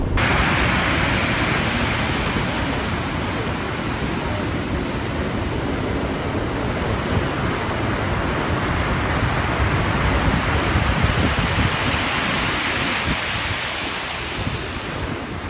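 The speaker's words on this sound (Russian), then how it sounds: "это просто шторм, большой шторм, когда волна доходит до конца стенки и еще заливается под мост" Heavy storm waves pound a seaside wall and surge under a bridge at Lazarevskoye on the Black Sea, a loud continuous roar of surf and wind buffeting the microphone, with no voices.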